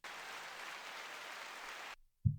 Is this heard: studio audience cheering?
yes